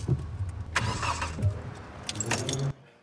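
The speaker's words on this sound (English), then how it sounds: "We've had another stall, but this time on an open road" Car engine stalling during a driving test on a New Zealand road, with a few uneven engine surges and rattles inside the car before it cuts out abruptly, close and fairly loud.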